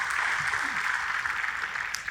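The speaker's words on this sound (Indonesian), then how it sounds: "Tepuk tangannya yang paling meriah buat Tuhan kita." A church congregation applauds during a worship service, a steady dense wash of clapping that holds for a couple of seconds at an even level.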